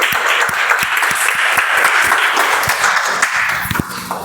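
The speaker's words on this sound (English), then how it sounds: "Let's have a huge round of applause." Audience at a Toastmasters club meeting breaks into loud, close applause welcoming the Toastmaster to the stage, with sharp individual claps standing out from a dense crowd that tapers near the end.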